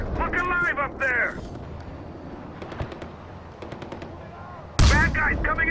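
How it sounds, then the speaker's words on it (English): Gunfire in the video game Far Cry 4: scattered bursts of rifle fire at moderate distance, with someone shouting over the start and a louder blast and further shouting near the end. "I'm taking fire!"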